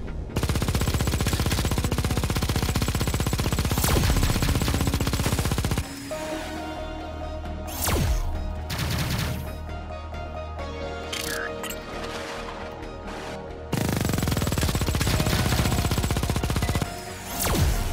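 Rapid gunfire from the twin-stick shooter Xenoraid on PS4, dense loud bursts of shooting with explosions, dropping briefly to a lighter stretch of fire and game music before the heavy barrage resumes.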